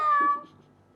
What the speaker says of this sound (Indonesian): Wah, kucing ini lagi.